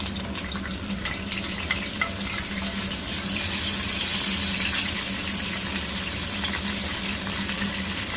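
Dry red chili and curry leaves frying in hot tempering oil, a steady broadband sizzle that swells slightly midway and continues without pause.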